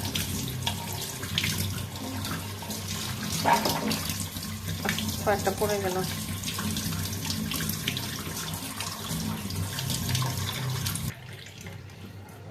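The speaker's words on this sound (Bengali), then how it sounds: "সাথে সাথে ঠান্ডা পানি দিয়ে ধুয়ে ফেলতে হবে" Cold tap water runs steadily over boiled peas being rinsed in a sink, with a brief clatter partway through as a few drop, and a voice speaks once; the flow cuts off near the end.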